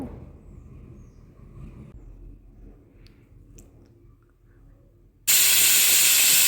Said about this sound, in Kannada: ಎರಡು ವಿಜಲ್ ಬರೋ ತನಕ ಕೂಗಿಸ್ಕೋಬೇಕು